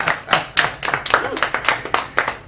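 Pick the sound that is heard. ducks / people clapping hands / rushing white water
people clapping hands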